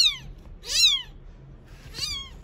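A small, lone kitten abandoned by its mother meows at home in two or three thin, high, rising-and-falling cries, close and fairly loud over faint background noise.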